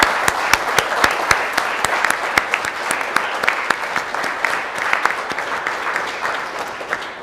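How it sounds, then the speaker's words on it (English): Applause rises from the audience at a children's creative writing awards ceremony, a steady, moderately loud patter of many hands with a few sharp, distinct claps standing out throughout. "can we have a round of applause for Julie?"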